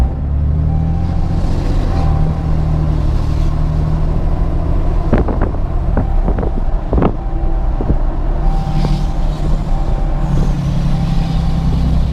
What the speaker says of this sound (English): the exhaust brake is definitely more rumbly, sounds a lot more mean.